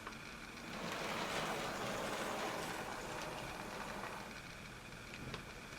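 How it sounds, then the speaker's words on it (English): A Hornby West Country model locomotive, Boscastle, running on a layout, a faint steady motor whir and rolling rumble that swells and holds, with no talking. "Right, so I'll bring the loco into shot."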